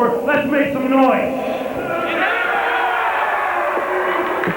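Wrestling crowd at an ACW Homecoming tag-team event yelling and cheering loudly, with a voice shouting over the steady roar of the arena.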